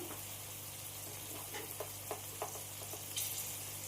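Vegetables and spices frying in a pan for undhiyu give a steady, close sizzle, punctuated by soft, intermittent stirring scrapes.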